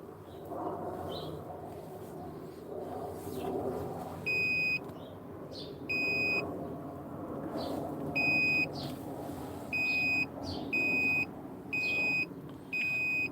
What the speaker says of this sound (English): That door alarm's really annoying.